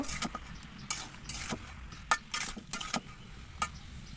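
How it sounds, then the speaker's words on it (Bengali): A spoon stirs raw mangoes simmering in a pot with the lid lifted, a quiet bubbling hiss punctuated by several sharp scrapes and clinks against the pot, with no talking. "এখন ঢাকনাটা উঠিয়ে একটু নেড়ে চেড়ে নেব"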